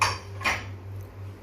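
Chopped capsicum and carrot salad is tossed in a dish, with two sharp utensil clinks against the bowl about half a second apart, followed by soft rustling.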